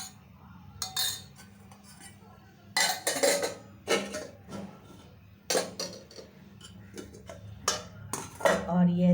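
Metal utensils clink and scrape against dishes in sporadic bursts while serving bitter gourd bhujia and arhar dal, close by, with a voice talking softly between the clatter.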